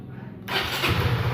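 A Honda Sonic motorcycle with a K56 engine starts up after a quiet moment, the motor catching abruptly and settling into a steady, fairly loud running note close by.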